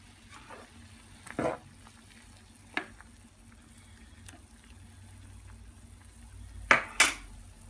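A homemade hair growth mixture cooks in a pan on a medium flame, giving a faint, low sizzle that is broken by a few louder clinks and scrapes of a utensil against the pot.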